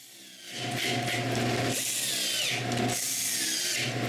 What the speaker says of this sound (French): Je visse temporairement le support de bidon à mon collage.